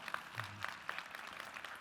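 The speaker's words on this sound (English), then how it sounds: "you can clap it up for that" A main-stage audience at a talk with a ride-share co-founder gives scattered, fairly faint clapping, a few distinct claps standing out over a thin wash of hand claps for under two seconds.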